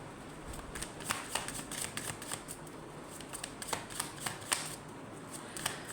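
Tarot cards shuffled and drawn by hand, a steady riffle of crisp, close card snaps and slides that runs continuously for several seconds, with no talking.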